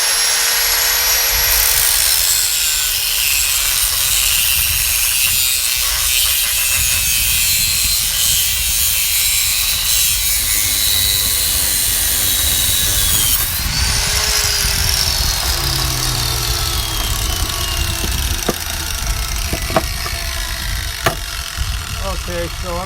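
A metal door strap for a Manx buggy and 1955 Chevy truck being cut off, a loud continuous cutting whine with a sharp shift partway through, ending in scattered clanks, with someone talking throughout.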